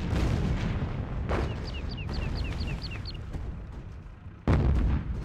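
Artillery fire in the Sudden Strike 2 war strategy game: deep booming blasts with rumbling tails and a heavy explosion near the end, while chirping birdlike tones pass over the battle noise.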